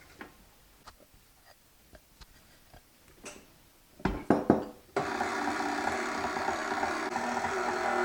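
Chocolate cupcake batter is stirred by hand with scattered light taps and scrapes, then a few louder knocks before an electric mixer whirs on steadily, blending flour into the batter with no talking.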